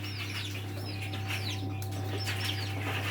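Chinese painted quail chicks in a heated brooder give high, thin peeping calls, repeated in quick chirps over a steady low electrical hum, close and moderately loud.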